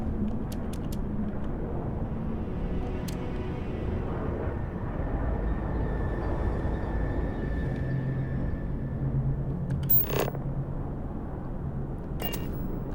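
Spaceship engine idling in the Starfield video game, a constant low rumbling drone with a faint steady whine, punctuated by a few brief interface beeps and clicks, with no speech.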